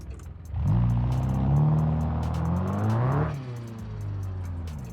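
Engine of a BX drift car in a driving game rises into a sustained rev, rumbling loud and steady with climbing harmonic tones, then drops back to a lower idle-like drone.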